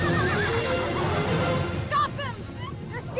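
A horse whinnies in a sharp rising-and-falling burst near the end, following a stretch of busy outdoor commotion with hoof clatter and voices, in a Robin Hood adventure scene.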